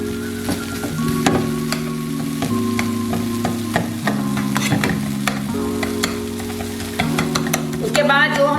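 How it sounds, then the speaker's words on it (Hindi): Tomato chutney being mashed with a spoon in a hot pan, with steady sizzling and frying plus repeated scraping and stirring strokes throughout, loud and close with no talking. "अब मैं स्पून की मदद से भी थोड़ा थोड़ा इसे मैश कर दूंगी।"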